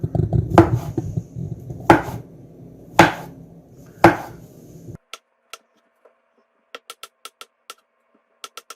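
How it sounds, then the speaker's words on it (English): A knife chops mushrooms on a cutting board in four loud, evenly spaced thuds, followed by a scatter of fainter, quicker taps and clicks. "I'm going to go and chop up some mushrooms"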